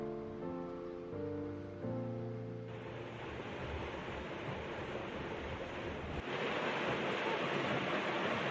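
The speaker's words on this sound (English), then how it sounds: "Tucked away at the end of this gorge is a rather nice waterfall" Steady rushing water of a waterfall at the end of a gorge in Tbilisi old town, fed by runoff from the botanical gardens, a continuous broadband roar that swells louder partway through, with a few low tonal notes at the start.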